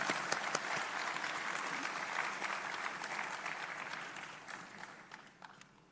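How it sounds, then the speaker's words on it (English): A university convocation audience claps for an honoured staff member during a graduation ceremony, with fairly faint, steady applause that gradually fades over several seconds. "A round of applause to Ms. Tarukshi Vijayasinghe."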